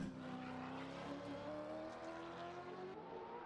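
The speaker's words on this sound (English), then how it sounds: "Just hear him just idling and just feathering the throttle around those couple of those long corners." A Supercars race car idles and feathers the throttle through long corners, giving a steady, quiet engine drone with gently wavering tones. It sounds distant and faint, with no voices.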